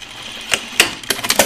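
A sewing machine stitches dress fabric in short, close bursts, several quick whirring runs separated by brief pauses, fairly loud and with no talking.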